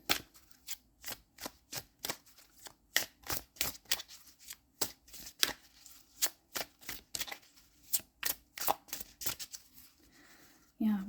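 Tarot cards being handled and drawn, a dense run of crisp snapping and flicking card sounds in quick irregular bursts, close and fairly loud, with little else beneath.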